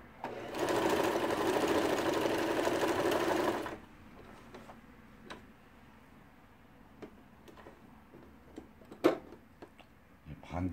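A Brother XI4010 sewing machine stitches in a loud, steady run of whirring needle strokes for several seconds, then stops, leaving a few scattered clicks and knocks.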